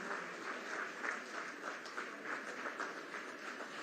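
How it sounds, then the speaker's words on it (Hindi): Audience applause at a government appointment-letter distribution and ITI skill college café inauguration ceremony in Ranchi, a steady, fairly quiet wash of many hands clapping throughout with no talk over it. "आपकी तरफ से तालियां भी हो श्री राहुल सिन्हा सर का।"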